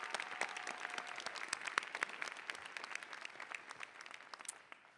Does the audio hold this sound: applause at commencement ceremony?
yes